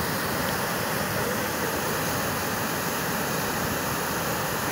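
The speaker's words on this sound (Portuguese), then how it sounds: "É água com força agora" Water rushes through the opened floodgate of the Carpina dam (Lagoa do Carro) as a steady, dense, loud roar with no breaks, alone and without voices.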